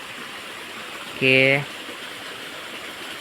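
After heavy rain, rainwater rushes through a broken embankment as a steady, broad roar. A voice briefly says a single word partway through.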